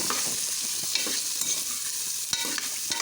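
Chopped mixed vegetables frying in a pan, a close, soft sizzle broken by scraping stir strokes and occasional clinks of the spatula against the pan, with no talking.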